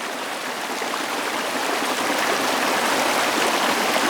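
A waterfall and stream in the bush rush and splash in a dense, steady roar, close and loud, slightly building in strength, with no one talking.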